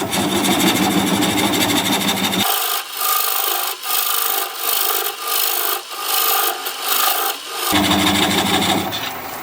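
A gouge cuts apricot wood spinning on a wood lathe, producing a loud, close rasping scrape in repeated pulsing strokes, with the lathe's hum underneath and brief gaps between passes.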